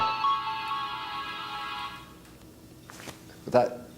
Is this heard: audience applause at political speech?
no